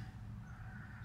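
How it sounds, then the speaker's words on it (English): Crows cawing outdoors near a porch, a brief harsh call heard over a steady low background hum. "Y'all hear the birds in the background?"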